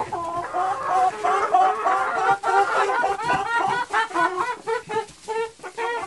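A group of laying hens clucking noisily together inside a farm coop, loud overlapping rhythmic cackles and clucks that continue without a break, close by, with no talk over them.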